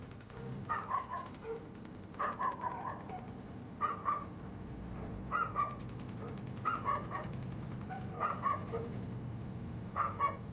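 Faint, distant dog barks repeat at a steady rhythm, roughly every second and a half, over a constant low rumble.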